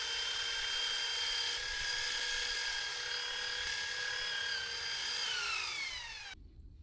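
A belt sander with 50-grit paper running across a wooden farm bench built from 2x4s, a loud, steady motor whine with shifting tones that winds down and cuts off near the end.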